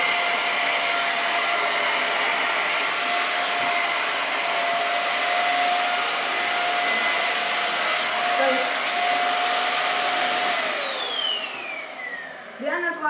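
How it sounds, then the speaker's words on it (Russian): A portable handheld vacuum cleaner runs steadily and loudly at close range with a constant motor whine, then winds down near the end as it is switched off. "Реально классный пылесос, я думаю, очень удобно будет домой"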